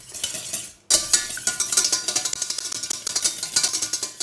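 A whisk beats egg yolks in a saucepan for a Crémant d'Alsace sabayon, with rapid rhythmic metallic clinks against the pan after a brief pause, close and fairly loud with no talk.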